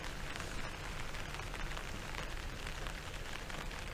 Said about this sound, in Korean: 비가 너무 들리시나 모르겠네.